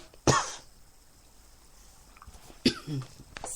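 Two sharp, close coughs from a woman recovering from a brain aneurysm, one near the start and another about two seconds later followed by a brief throat sound, in an otherwise quiet room.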